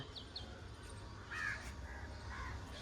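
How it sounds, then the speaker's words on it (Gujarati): Crows caw faintly in the distance a few times on a cool morning around eight o'clock, over a low, steady outdoor background. "પક્ષીઓનો અવાજ આવે છે ઠંડુ વાતાવરણ છે"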